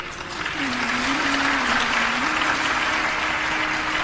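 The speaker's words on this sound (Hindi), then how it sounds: "ताली बजाते तो ढंग से ही बजा लो।" Sustained applause from an audience at a Hindu religious discourse on the Krishna Janmashtami story, dense and even throughout, with a faint sustained tone running underneath.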